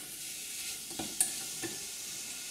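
Sugar melting with strawberries in a pan for a strawberry quark dessert, a soft faint sizzle with a few light spoon taps and scrapes.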